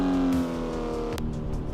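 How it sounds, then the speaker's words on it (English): Porsche 992 GT3 RS engine in a driving simulator game, a sustained tonal hum whose pitch shifts as gears change, heard briefly and fairly close with no talk. "We're driving the Porsche 992 GT3 RS."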